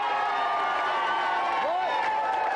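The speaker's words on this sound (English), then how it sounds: "Give them a cheer." A studio audience on a television game show cheers and whoops in a brief, dense burst of crowd noise with voices mixed in.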